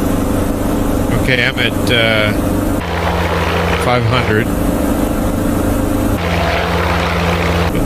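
A plane's engine drones loudly throughout in a flight video game, a constant propeller-like roar that shifts in pitch, with someone talking over it.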